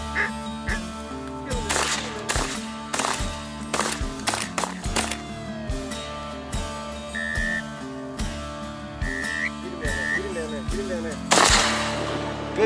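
Shotgun blasts ring out during a duck hunt in flooded Arkansas blinds: a rapid, irregular volley of sharp, loud reports across the whole stretch, mixed with quacking ducks or calls and a steady tonal drone underneath.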